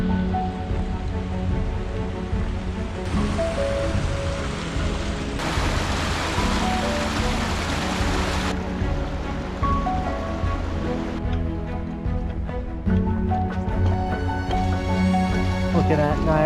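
A small waterfall in Rocky Mountain National Park rushes with a steady broadband roar, loud and close, with shifting intensity, beneath a hiker's voice.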